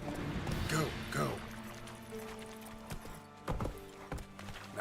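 Hooves of the horse Roach clip-clop at a quick, steady beat in The Witcher 3, with occasional snorts and a whinny over the game's background sound.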